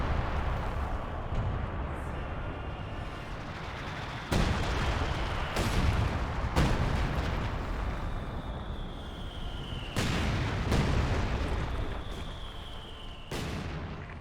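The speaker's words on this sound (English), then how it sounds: "it looks like the Wehrmacht mortar is doing some good damage" Mortar and artillery shells from a Wehrmacht mortar hit in a Company of Heroes 2 battle, several heavy booming impacts at about 4, 6, 10 and 13 seconds over a constant rumble of battlefield noise.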